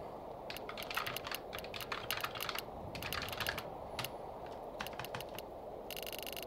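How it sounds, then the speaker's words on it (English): Rapid keyboard typing from a Minecraft sound mod for the game's chat, with quick bursts of clicky keystrokes separated by short pauses, close and crisp over a faint hiss and no talk. "so like typing in chat."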